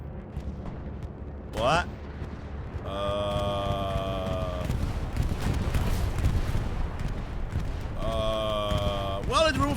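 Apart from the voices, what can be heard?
bombing run explosions in video game Hell Let Loose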